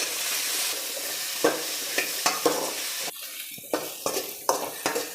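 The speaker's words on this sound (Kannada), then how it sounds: "ಈಗ ಬೆಂಡೆಕಾಯಿ ಫ್ರೈ ಮಾಡ್ಕೊಳ್ಳೋದಕ್ಕೆ ಸೇರಿಸ್ಕೊಳ್ತಾ ಇದ್ದೀನಿ" Sliced okra frying in oil with a splash of lemon juice makes a close, lively sizzle, broken by repeated sharp scrapes and clinks of a spatula against the pan.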